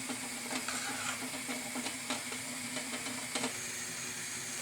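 A pot of mushroom marinade simmers over medium heat with a steady hiss and soft bubbling, small pops and clicks scattered throughout, close and fairly quiet.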